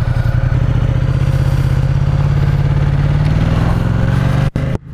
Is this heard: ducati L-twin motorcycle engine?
yes